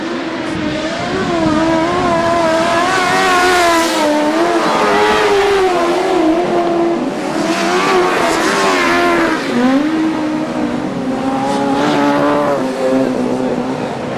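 Motorcycles racing in a British Masters grasstrack meeting, 2008: a continuous loud engine drone with pitch rising and falling through gear changes and bends, sustained for the whole stretch, with a commentator's voice over the top.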